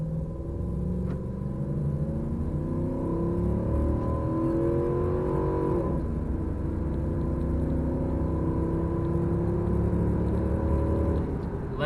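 A 2003 Ram 2500 4x4 pickup with a 5.7 Hemi accelerates from a standstill toward 60 mph in four-high, the engine droning as it climbs through upshifts, heard steadily from inside the cab.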